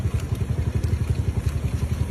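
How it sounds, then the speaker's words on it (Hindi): A motorcycle on a street in Karachi chugs with a fast, even low putter and some mechanical clatter, close and continuous throughout, with no talk. "ये बाइक स्टार्ट"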